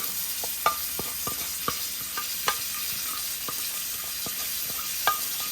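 Shrimp are tossed in a garlic butter sauce in a pan, giving a steady sizzle broken by light, scattered clinks of a utensil against the pan. No one speaks.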